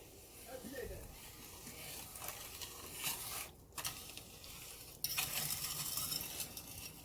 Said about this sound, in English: I'm just going to whisk all that together.